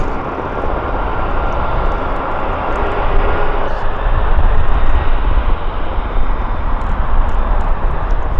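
A KC-135 aircraft taxis at the CFB Comox air show media day, its jet engines a loud, close, continuous roar that builds slightly partway through.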